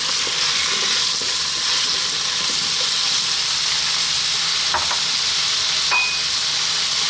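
Hard vegetables, carrots and potatoes, going into a hot stew pot, giving a loud continuous sizzle and hiss with a couple of brief clinks of the utensil.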